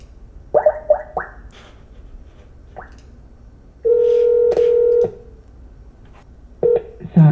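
A telephone call is dialed: a few quick touch-tone beeps, then a long steady tone and a pair of further tones, heard clearly with no talking.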